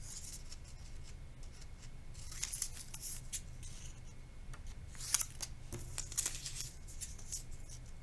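Scissors cutting paper word cards apart for a short-vowel sorting activity, several quiet snips and rustles at an irregular pace, close by over low room hum, with no talking.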